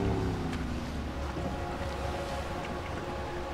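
Boat in the video game Max Payne 3 with its engine cut, drifting in on the water: a steady, fairly loud wash of water and wind noise that eases slightly toward the end.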